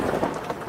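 Winter rain and wind in Southern Oregon heard through a played-back promotional video, a dense rushing wash with rumbling low gusts, moderately loud and continuous, with no speech over it.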